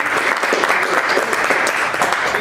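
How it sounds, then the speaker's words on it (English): A round of applause from the audience at a startup community meetup as a speaker comes up, with steady, even clapping from a modest crowd, close and continuous throughout. "Give Michael a round of applause, folks."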